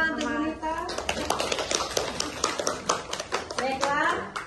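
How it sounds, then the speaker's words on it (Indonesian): A group in a school setting claps hands in quick, uneven bursts, the claps mixing with children's voices and chatter throughout. "Tepuk tangan untuk Bu Nita."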